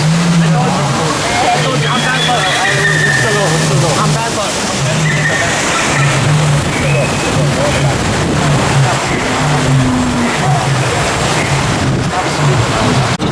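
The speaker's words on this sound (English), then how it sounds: "We have entered the water." Water splashes and sloshes steadily as a river raft ride at Walt Disney World's Animal Kingdom moves through the water, with a low mechanical rumble underneath and people talking over it throughout.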